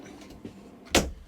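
A motorhome's pull-out table slides open in one short, sharp burst near the end, a brief thud and scrape heard up close after quiet cabin rustling.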